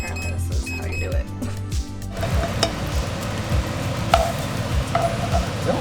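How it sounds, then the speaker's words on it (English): Sausages sizzling and crackling in a frying pan, steady and close, with a few sharp clinks and taps of utensils over the top. "you just fry it in a frying pan"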